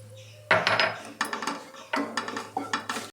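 Chili, coriander and pepper powder get stirred into onions in a pan: a few short bursts of spoon-on-metal scraping and clinking with pauses between them, over a low steady hum.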